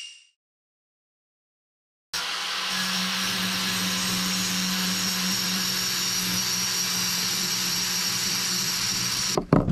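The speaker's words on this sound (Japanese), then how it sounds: "このゴツゴツしたのをサンダーで落として" An angle grinder smooths rough steel rebar flat: after a brief quiet start the motor whines up and holds a loud, steady, harsh grinding roar for about seven seconds, close by, ending with a short clatter.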